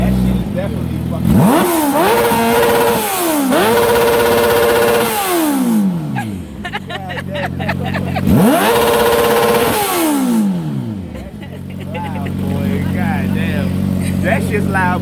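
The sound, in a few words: motorcycle exhaust revving loudly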